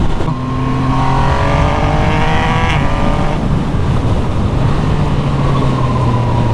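Yamaha MT-09 motorcycle ridden hard over a rough, bumpy goat-track road, its engine droning loud and steady with rising and falling revs throughout, no talk over it.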